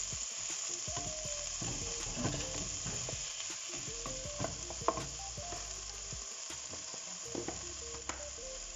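Chopped onions frying and sizzling in a pan for a homemade meat pie filling, a steady bright hiss with scattered stirring clicks and scrapes, close and fairly loud, no talking.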